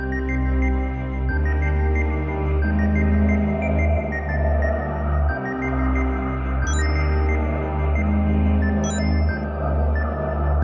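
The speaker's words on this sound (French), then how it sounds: "j'ai pris le son du métal qui se tord et je l'ai blindé d'effet et ça donne ça" Low droning electronic tones shift in steps beneath a warped metallic texture made from the sound of twisting metal heavily processed with effects, with two quick bursts of high retro beeps partway through.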